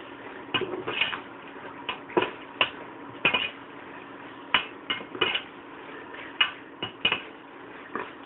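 Metal spoon scraping and knocking against a pan while sautéing for fried chicken biryani on medium flame, irregular clinks and taps spaced through a low background hiss, close and fairly quiet.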